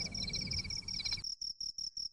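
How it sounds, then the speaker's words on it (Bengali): Crickets chirping at night, a steady high-pitched trill that carries on and then breaks into short regular pulses, faint and alone. "এক টানা ঝিঁঝি ডেকে চলেছে।"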